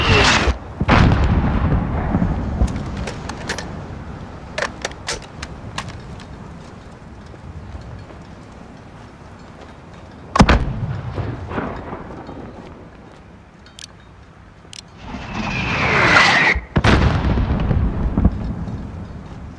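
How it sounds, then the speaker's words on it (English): Mortar rounds and explosions boom in Call of Duty: Modern Warfare, several heavy, sharp blasts spread irregularly across the stretch with rumbling tails, some near and loud and others more distant, plus scattered gunfire cracks and a rising whoosh near the end. "There's still a mortar out there."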